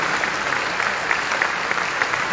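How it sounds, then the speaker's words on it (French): An audience at a ceremony for the International Day of Persons with Disabilities applauds after a performance, steady, even clapping from a crowd heard at moderate distance with no break. "Et qui fait une très grande performance, on va applaudir par"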